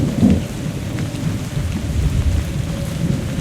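Loud, steady rain pours in the video game Survive The Nights while low thunder rumbles continuously underneath, a dense daytime storm with no voices.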